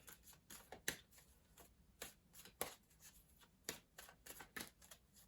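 Tarot cards riffled and shuffled by hand, a run of crisp, quick flutters and snaps at close range with short pauses between bursts.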